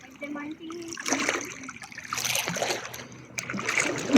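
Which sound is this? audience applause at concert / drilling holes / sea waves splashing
sea waves splashing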